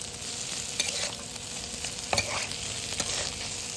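Food being stirred in a pan over a steady sizzle, with light scraping and a few soft clinks of the utensil against the pan, no talking.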